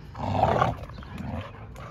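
Pit bull dogs growl while playing tug outdoors, giving a low, rough rumble that swells loudest early on and then continues more softly throughout, close and with no talk over it.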